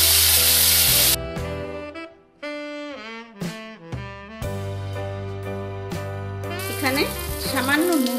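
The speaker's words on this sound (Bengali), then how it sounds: "আমি এবার এই বেগুনটা ভেজে নেব।" Eggplant pieces sizzling as they fry in hot oil, a broad hiss strongest at the start and again near the end, largely buried under loud melodic music.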